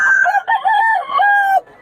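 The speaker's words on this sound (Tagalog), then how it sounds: "Ito yung murang mga manok ni Boss Dada" A rooster among chickens for sale in Bocaue gives one long, loud crow close by, its drawn-out call wavering in pitch before cutting off abruptly, with no talking.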